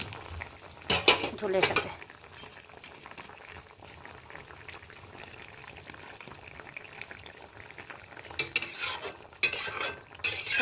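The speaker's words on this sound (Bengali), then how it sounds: "আর ডালের বড়াটা এখন ঢেলে দিচ্ছি" Lentil fritters poured into simmering curry with ridge gourd and potato, then stirred in the pan: bursts of splashing and clinking at the start and end around a low bubbling simmer, with a brief spoken remark.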